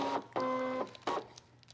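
A fabric cutting machine scanning fabric stuck on its mat gives three short, close motor whirs with tonal hums, separated by brief pauses.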